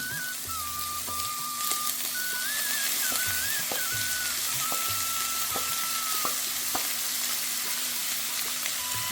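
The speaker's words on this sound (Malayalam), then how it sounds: "ഇനി ഇപ്പം ഞാനിതിലേക്ക് നമ്മൾ എടുത്തു വെച്ചിട്ടുള്ള സവാളയും പച്ചമുളകും അതുപോലെ ജിഞ്ചർ ഗാർലിക് പേസ്റ്റും കൂടെ ആഡ് ചെയ്ത് കൊടുക്കുവാണേ" Onion, green chili and ginger garlic paste fry in hot oil for a squid curry, giving a steady sizzle dotted with light clicks of a utensil and a faint whining tone.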